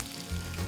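Green chillies sizzle and fry steadily in a hot pan, a brief, continuous crackling hiss with no voices.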